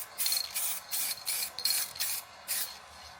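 Spray paint goes onto a car engine bay in short, repeated hissing bursts of roughly equal length, close and steady, with brief gaps between passes.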